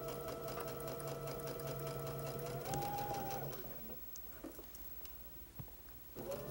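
A sewing machine stitches across quilt fabric with a steady, fast mechanical whir and patter, then the motor stops and only faint handling noises and small clicks remain.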